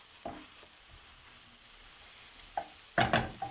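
Dried green beans stirred in a pan for a Turkish bean sauté with eggs, giving a few short, soft scraping bursts separated by quiet gaps, the last cluster a little louder.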